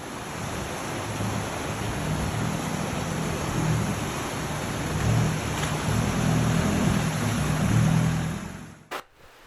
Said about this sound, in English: Got the Hilux coming down here now.